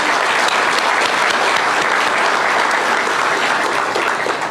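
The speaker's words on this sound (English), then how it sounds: "you deserve a huge round of applause" Steady, dense applause from a large crowd at the official opening of the Twiga Foods distribution centre in Kiambu, Kenya, congratulating an entrepreneur; loud and sustained throughout with no talk.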